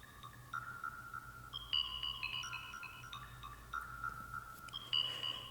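Bright synth plucks from a Cherry Audio plugin, ringing out in short melodic notes with a smooth, washy Galactic Reverb tail trailing behind each one. The plucks are steady and moderately loud, with a low hum underneath and no voices.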